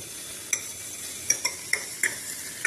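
Sweet potato pieces fry in ghee with a soft, steady sizzle, broken by several sharp clinks of a spoon or spatula against the pan at uneven intervals, close by and without talk.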